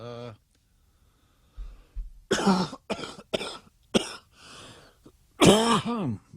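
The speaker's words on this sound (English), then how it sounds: "when I cough like that, put a Kleenex over the speaker on your phone" A man hosting a live stream coughs and clears his throat close to the microphone, a cluster of several sharp, harsh bursts, followed by a few spoken words.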